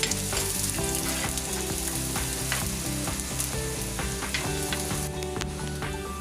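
Ginger sautéing in hot oil for an anchovy fish curry, a loud continuous sizzle with crackling pops, accompanied by steady rhythmic music.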